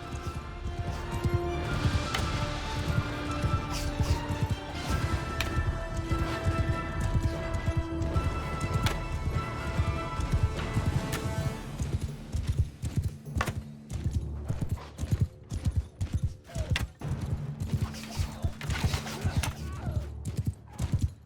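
Horses gallop in a Mount & Blade II: Bannerlord battle, a dense continuous clatter of hoofbeats that thins into looser, uneven strikes toward the end, with no talking.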